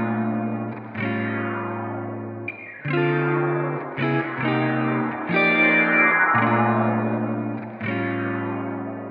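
A looped synth phrase through a detuned reverb preset in FL Studio, with chorused, detuned shimmer and washy reverb, notes repeating in a steady pattern, loud and continuous with no voices.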